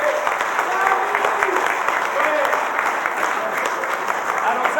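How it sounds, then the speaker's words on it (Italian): Audience at a theatre performance applauding, a dense, continuous wash of clapping from a full room with a voice speaking over it. "vorrei aggiungere un ulteriore applauso agli autori di questa rappresentazione"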